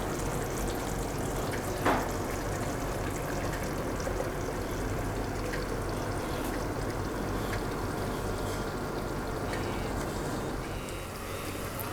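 Chettinad chicken cooking in a covered pot on a low flame with no water added, giving a steady, close, even sizzle and bubbling hiss that holds unchanged throughout.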